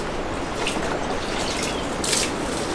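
Liquid poultry manure poured onto straw bales in a garden, heard as a loud, steady wet trickling and dripping close by, with a brief splashier burst near the end.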